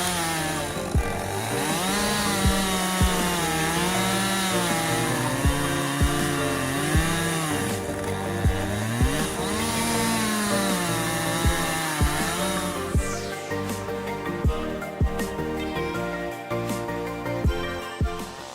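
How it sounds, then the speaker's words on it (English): A CUS1201 chainsaw runs steadily through large blocks of wood, its loud sustained engine whine wavering in pitch, with a shift in tone partway through and regular knocks beneath. "the CUS1201 chainsaw is a force to be reckoned with, delivering precision and power in every cut"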